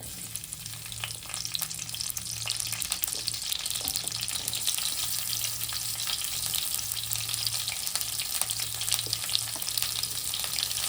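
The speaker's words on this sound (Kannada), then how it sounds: "1 ಸ್ಪೂನು ಎಣ್ಣೆ ಹಾಕೊತಾ ಇದ್ದೀನಿ. ಇವಾಗ ಈರುಳ್ಳಿ ಹಾಕ್ತಾ ಇದ್ದೀನಿ ನೋಡಿ." Onions sizzle in a spoonful of oil in a pan for a traditional mutton head-meat sambar, a steady close frying hiss that continues without a break under a low background hum.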